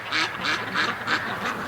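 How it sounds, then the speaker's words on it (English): A female duck quacks in a steady run of about five harsh, evenly spaced calls, close and clear over faint outdoor background during winter duck mating. "female's starting to quack"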